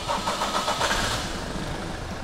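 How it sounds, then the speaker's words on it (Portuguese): A car engine cranks and catches, then revs up under acceleration, a close, loud, steady mid-range roar running through the whole short stretch. "eu vou pedir para o Diego dar uma partida no motor e a gente vai acelerar"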